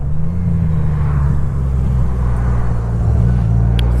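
A Honda Goldwing F6B motorcycle engine drones in a deep, steady rumble, close and loud, with a slight rise in pitch as it pulls, with no voices over it.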